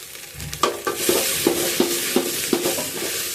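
Okra fries in a pan for okra saaru, a steady close sizzle broken by a regular series of spatula scrapes and taps roughly every half second.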